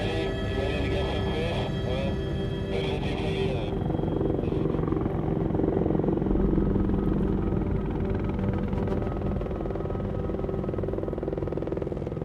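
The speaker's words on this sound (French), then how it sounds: "on pouvait prendre l'hélicoptère pour se rendre directement dans les meilleurs spots de pêche" A helicopter flying over Sweden, heard as a steady, loud rotor and engine drone that fills the background throughout. A voice talks over it for much of the time.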